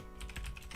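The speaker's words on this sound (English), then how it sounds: "Then I start typing." Quick keystrokes on a computer keyboard, several soft clicks in under a second, faint and close with no voices.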